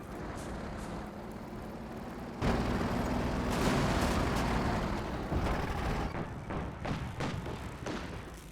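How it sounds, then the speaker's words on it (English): M83 cluster bombs going off in Company of Heroes 2, a dense rumbling burst of overlapping thuds and crackles that swells suddenly and trails off into scattered pops. "in come the M83 cluster bombs, but well dodged by Talisman"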